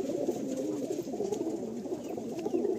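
Madrasi pigeons in a loft coo steadily in a low, rolling murmur, several birds overlapping continuously at moderate volume with no talk.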